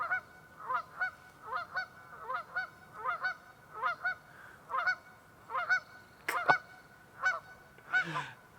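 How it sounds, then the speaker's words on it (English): Geese honk loudly and close by in a steady, repeating rhythm, about two honks a second, with one sharp knock partway through. "Those geese are just so obnoxiously loud, it's not even funny."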